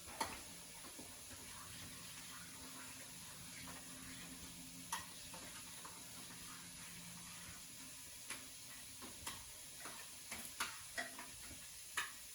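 Chili simmers quietly in a pot under a faint steady sizzle and hiss, with soft scattered scrapes and taps of a spoon stirring, growing more frequent near the end.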